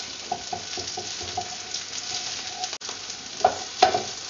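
Onions fry in hot oil with garlic, a steady loud sizzle under repeated scraping strokes of a utensil stirring the pan, with a couple of sharper clinks near the end and no voices.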